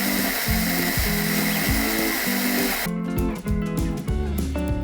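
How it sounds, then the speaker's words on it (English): Kitchen mixer grinding cornflakes into crumbs, a loud steady whirring churn with chunky pulsing in the low end that shifts and speeds up partway through, with no talking. "We're gonna need a mixer and some cornflakes."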